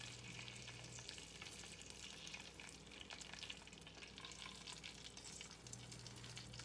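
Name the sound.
pork chops browning in a frying pan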